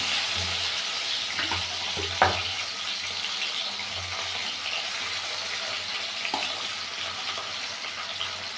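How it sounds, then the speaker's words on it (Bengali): Small mola carplet fish frying in oil in a nonstick pan, giving a steady, moderate sizzle with a few soft clinks of handling and no talk. "প্রথমে আমি হচ্ছে মাছগুলোকে ভাজবো এই যে ননস্টিকের মধ্যে তেল দেওয়া আছে"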